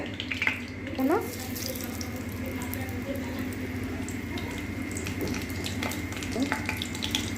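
Oil crackles and sizzles steadily in a pan as bay leaf and dried chilies fry, with a few short stirring clinks and brief scrapes over the continuous frying hiss.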